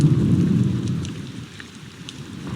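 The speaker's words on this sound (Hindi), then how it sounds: "बर्फ के ओले गिरने लगे।" Heavy rain and hail pelting down in a thunderstorm over ripe corn fields, a loud dense hiss with a low rumble of thunder at the start that eases slightly, with no voices.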